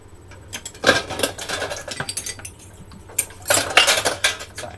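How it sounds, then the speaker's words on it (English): A utensil scrapes and clinks against a bowl while pico de gallo with lime is stirred, in two bursts of close, irregular clatter with a quieter pause between them and no talking. "We're going to stir this up."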